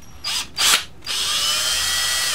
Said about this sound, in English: Got our drill bit, now we're going to drill a hole.